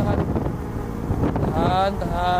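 A boat motor hums steadily at low throttle near the shore of a river village, under wind noise on the microphone, with a rising whine toward the end.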